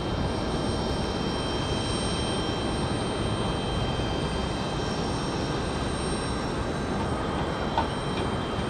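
An American airliner bound for LAX departs Raleigh Durham airport. Its engines make a loud, steady broadband roar with faint tonal whine above, constant throughout and with no voices.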